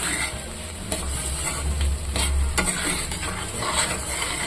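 A spatula stirs beaten egg through a bitter gourd stir-fry in a pan, a steady close sizzle carrying a scraping, clattering stir throughout, with no voices.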